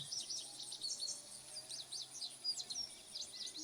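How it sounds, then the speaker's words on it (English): Soft, steady chirping and tweeting from several birds on a roadside, fairly faint and somewhat distant, continuing throughout with no voices. "I hear birds and stuff."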